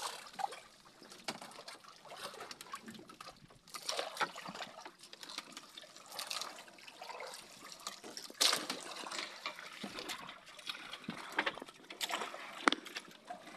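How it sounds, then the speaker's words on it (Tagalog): Sea waves slosh and lap against a small fishing boat on the open sea, a continuous irregular watery churn with occasional sharper splashes, fairly faint and unaccompanied by talk. "Talagang kalampagan ng alon. Ayan ang laot."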